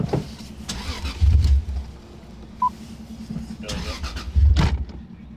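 A 90's Japanese car's starter cranks the engine in two separate attempts without it catching, with a short beep between, while people talk nearby.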